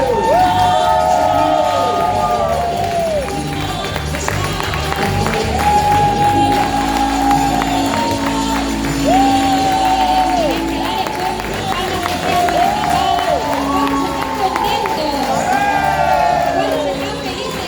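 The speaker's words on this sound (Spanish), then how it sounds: "recibimos con ese fuerte aplauso a la profeta Valeria Piazza" A church congregation applauds and cheers loudly to welcome a prophet, with sustained clapping, whoops and shouts spread across a big crowd, mixed with music and voices.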